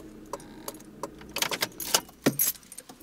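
A car key slides into the ignition with a jangle of keys on the ring, a handful of short metallic clinks and rattles, close and fairly loud, followed by a faint click.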